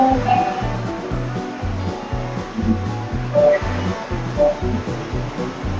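Continuous rushing water from the waterfall at Redwood Creek in Disney California Adventure, a steady broadband wash heard from nearby with faint park sounds underneath.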